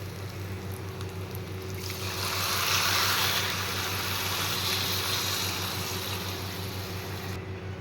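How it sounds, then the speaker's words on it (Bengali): Water poured into a pan of frying rice while fish-head rice is cooked, a steady rushing splash that swells for several seconds over a low background hum. "এবার আমি পরিমাণ মতো যতটা জল লাগবে সে বুঝে আমি জল দিয়ে দেব"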